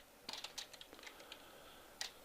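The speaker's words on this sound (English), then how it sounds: "the forms are nice because I can type in Joe Smith, 123 Main Street" Quiet, close typing on a computer keyboard, a scatter of light irregular keystrokes with a couple of sharper taps near the end, heard alone.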